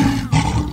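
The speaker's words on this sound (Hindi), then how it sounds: "लोगन कहे ये शेर हंसत है कि गुर्रावत है" A tiger growls at a jungle safari in Chhattisgarh, a close, loud, rough roar split into two short bursts.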